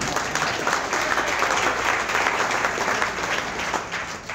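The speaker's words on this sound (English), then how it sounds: "by a show of applause, how many enjoyed that facility this weekend?" Touchdown Club luncheon audience applauding in response to a question about a sports facility, a steady, full round of clapping from a room of people that holds evenly for several seconds and fades slightly at the end.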